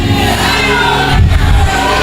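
A Pentecostal church congregation shouts in praise, a loud dense wall of many voices roaring together without pause, close and overwhelming.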